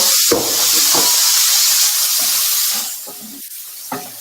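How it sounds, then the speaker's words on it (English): Prawns sizzle hard in a hot stir-fry pan, a loud continuous hiss filling most of the moment before easing off near the end, with a few soft clacks of stirring. "that was a sizzle"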